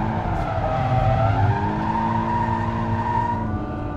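Ferrari F12 Berlinetta, a 730-horsepower car with the driving aids off, drifting on opposite lock. Its tires give a loud, sustained squeal over the engine note, wavering in pitch for about four seconds.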